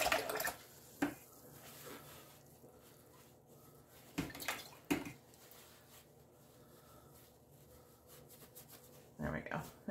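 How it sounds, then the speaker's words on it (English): An acrylic paint brush is rinsed in a water jar, making faint, brief swishes and clinks that come in a few short bursts over a quiet room background. "I can give this a bit better of a rinse."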